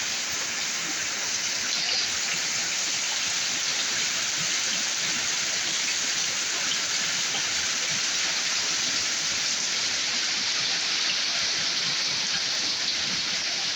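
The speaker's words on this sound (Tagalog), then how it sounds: "tuloy-tuloy pa rin ang ulan" Steady, heavy rain falls continuously, a dense hiss of drops on surfaces with no pauses.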